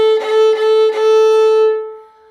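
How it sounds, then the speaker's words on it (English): A bowed string instrument plays separate detache strokes: three distinct bow changes on one sustained pitch, clear and strong with slight weight into the string, ringing out alone before fading. "So Detache sounds like this."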